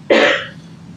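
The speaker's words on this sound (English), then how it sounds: "that cough was really loud" A single loud, sharp cough bursts out close by in a courtroom during a trial, then fades quickly into quiet background noise.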